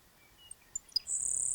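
A high, thin insect-like buzzy trill from a recorded grasshopper sparrow song played from a phone on the eastern Colorado plains, preceded by a few faint brief chirps, played quietly.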